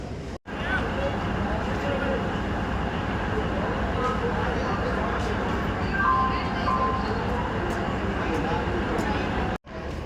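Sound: train arriving at railway platform

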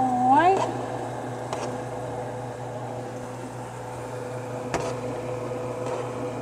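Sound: microwave oven running

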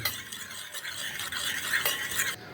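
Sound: stirring to melt camphor in a pot

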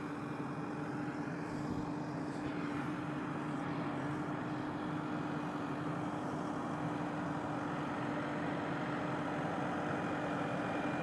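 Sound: tractor driving up onto hydraulic dovetail gooseneck trailer

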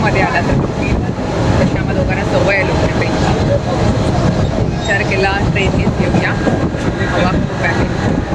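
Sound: local train running

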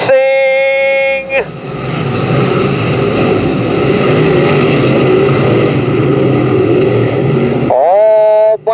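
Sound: race cars racing at a speedway

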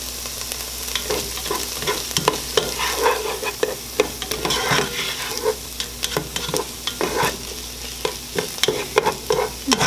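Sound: onions frying and being stirred in a pan

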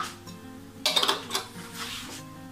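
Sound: stirring plum cake batter in a bowl

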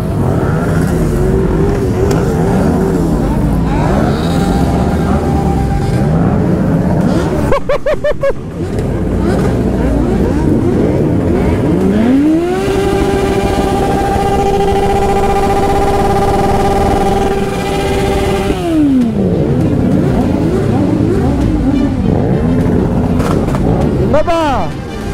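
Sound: car doing a tyre-smoking burnout at night in Lyon

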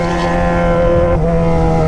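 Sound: Yamaha XJ6 motorcycle revving with straight-pipe exhaust

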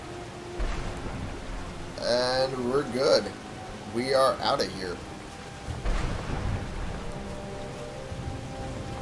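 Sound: thunderstorm with rain in video game Skyrim

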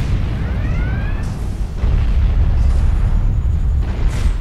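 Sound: hand phaser firing in Star Trek Online video game

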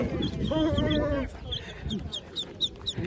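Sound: ducks

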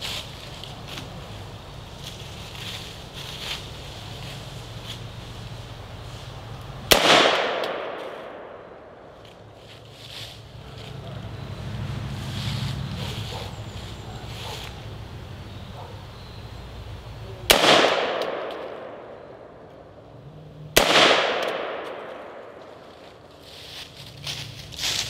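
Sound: full auto gunfire from a prototype gun

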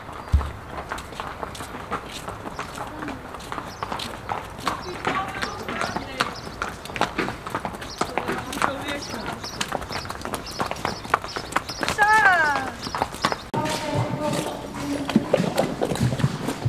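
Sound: horses walking, hooves clip-clopping

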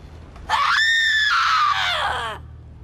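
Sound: scream into a recorder in Borderlands 3 video game

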